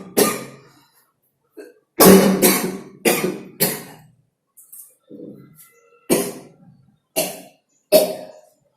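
A series of sharp coughs in short bursts, close and loud, separated by pauses.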